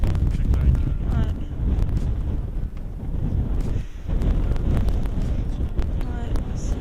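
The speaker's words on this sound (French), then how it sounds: "Le vent ils sont super forts." Strong wind buffets the microphone with loud, continuous low roaring gusts on a volcano climb, steady throughout with a brief lull, while people talk.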